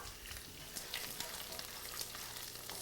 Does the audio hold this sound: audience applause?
no